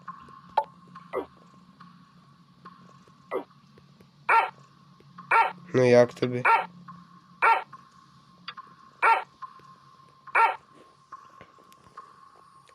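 A dog in the puzzle game Rusty Lake Roots gives a series of short, sharp barks at irregular intervals over a steady low electronic hum, with a brief flurry of growly barking partway through and a voice speaking softly.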